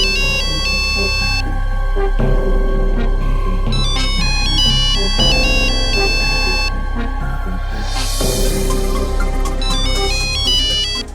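A mobile phone ringtone plays loudly and continuously, a bright looping melody of repeated electronic tones with no voices over it.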